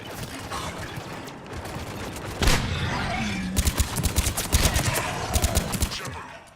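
Gunfire in a Mass Effect 3 firefight, rapid bursts of shots and impacts crackling in quick clusters over a loud, busy battle background.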